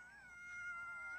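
Orphaned puppies whose mother has died, being bottle-fed milk by a man, give a thin, steady high-pitched whimpering whine that rises slightly and holds for about a second.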